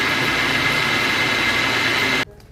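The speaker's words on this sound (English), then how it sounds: "Let me finish blending." A loud, steady motorized whir of a blender running continuously, then stopping abruptly just before the end, leaving near quiet.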